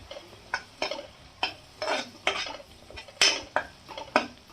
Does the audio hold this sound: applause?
no